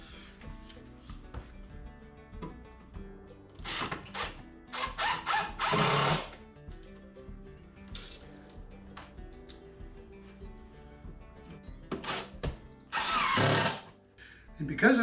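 Power drill driving 1.5-inch screws into a wooden shelf at a workbench, in several short whirring bursts of rising and falling pitch, close and fairly loud, with a longer run near the end and speech between bursts.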